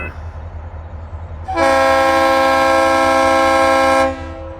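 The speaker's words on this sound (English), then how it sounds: "This is gonna be that northbound hoppers and gons that this locomotive just went down there and recovered" A northbound freight train of hoppers and gondolas passes at midday in Saint Augustine, its locomotive horn blasting one long, loud, steady blare over the low rumble of the train before cutting off.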